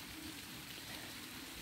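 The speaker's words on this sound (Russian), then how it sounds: "Начался дождик." Steady soft rain falling, a continuous gentle hiss with faint patter, fairly quiet and unbroken.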